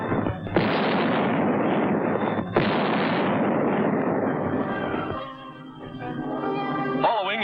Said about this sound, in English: Huge 155-millimeter rifles, long toms capable of hurling a shell for more than 6 miles,